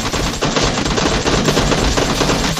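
Gunfire in PUBG Mobile, a loud, close burst of rapid automatic shots that keeps going without a break over a very short span.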